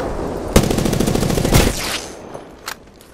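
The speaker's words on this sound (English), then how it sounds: "They spotted me. I'm taking shots." Rapid automatic gunfire in the video game Apex Legends, a dense close burst of shots lasting about a second, a brief pause, then another short burst, followed by a couple of fainter isolated cracks.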